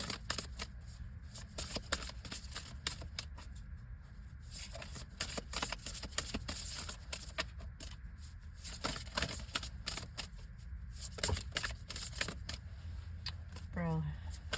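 A deck of oracle cards being shuffled by hand, a continuous close run of rapid riffling flutters and soft slaps for over ten seconds, with a brief voice near the end.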